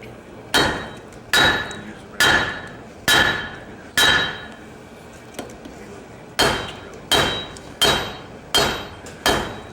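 A blacksmith hammers hot metal on an anvil at a conference demonstration, with sharp ringing blows in two bursts of steady rhythm separated by a brief pause, close and loud with no talk.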